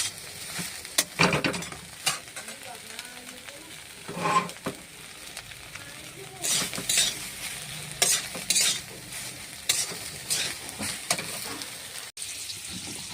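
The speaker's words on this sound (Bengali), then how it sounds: "তাই সয়াবিনটাকে ভাজতে বসে গেছি।" Soybean chunks fry in oil in a kadai while a utensil stirs them, giving uneven bursts of sizzle and scraping clatter over a steady background hiss, with no talking.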